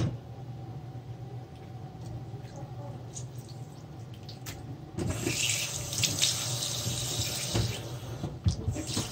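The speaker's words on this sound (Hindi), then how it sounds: "चिकन को मैंने एक बोल में डाल दिया, इसमें पानी डालेंगे।" Water runs from a tap into a bowl of raw chicken with lemon juice for washing, a steady splashing rush that grows louder and fuller about halfway through, with faint kitchen clatter.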